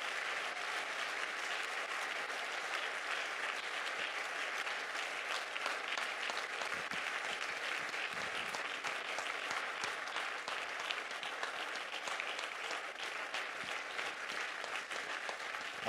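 A church congregation applauds the Lord in steady, sustained clapping that fills the room for a long stretch, dense and even throughout with no talking over it.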